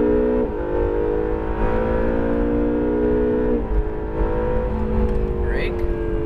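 An Acura NSX engine pulling hard under throttle on a race track, loud steady tones that climb and step down through gear changes, with a driver's voice coaching over the engine.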